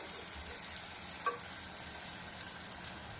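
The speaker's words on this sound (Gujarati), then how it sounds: "બે મિનિટ જેવું આપણે આને તેલના અંદર મરચાંને સંતરાવા દેશું" Chilies fry in hot oil inside a pressure cooker after salt and turmeric are mixed in, giving a steady, soft sizzle that runs throughout with one small tap near the middle and no talk.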